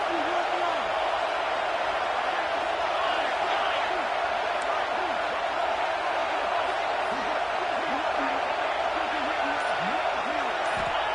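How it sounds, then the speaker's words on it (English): Home crowd noise roars in a college football video game on a third-down defensive stand, a steady dense wash of stadium cheering held at constant loudness throughout with faint commentary beneath. "Here comes this home crowd as the defense tries to get off the field on 3rd down"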